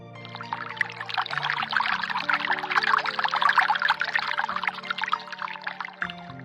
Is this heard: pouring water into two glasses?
yes